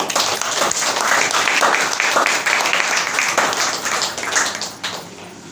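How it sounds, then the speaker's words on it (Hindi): A school audience applauds strongly and steadily, a dense wash of clapping that carries on for several seconds before tapering slightly at the end. "इसके लिए एक जोरदार ताली दीजिए।"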